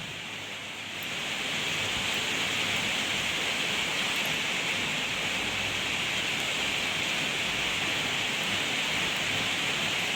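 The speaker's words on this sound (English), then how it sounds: "If you can still hear me over the rain." Steady, dense rain hiss fills the whole clip, rising in just after the first second and holding loud and even with no voices.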